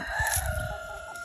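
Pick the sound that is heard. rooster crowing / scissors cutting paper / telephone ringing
rooster crowing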